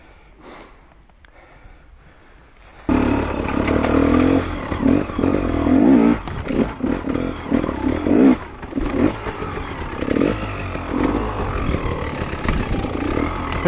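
A KTM 250 dirt bike revs hard with its rear wheel spinning and slipping, the engine loud and close, surging and dropping in uneven bursts after a quieter opening.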